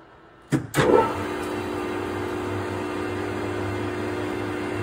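A lathe starts up with a couple of sharp clunks, then settles into a steady motor hum while an auger helix is wound, the drone continuing evenly with no talking.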